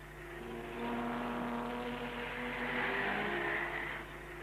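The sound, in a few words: 1937 Mercedes W125 Silver Arrows racing cars roaring at race start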